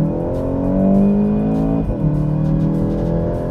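A Volkswagen Golf GTI Performance engine and exhaust rev up nearby, a steady throaty drone that swells, breaks off briefly, then settles back into a smooth hum.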